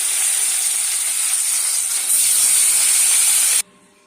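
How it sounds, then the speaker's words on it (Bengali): Fish frying in oil in a wok gives off a loud, close, continuous hissing sizzle that swells partway through, then cuts off abruptly near the end. "ঝোল হবে তো, মাছটা ভেজে নিই।"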